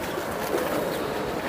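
A Giribaz pigeon coos softly and briefly while being held in hand, with a low murmuring background close by.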